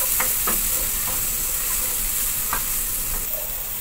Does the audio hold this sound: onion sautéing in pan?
yes